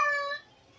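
A cat meows once, a short harmonic call that is moderately loud and close, then fades to near silence.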